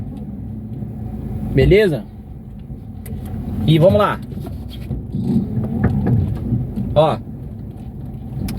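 Car with a worn CV joint and a humming wheel bearing while driving, a low steady rumble running under someone talking.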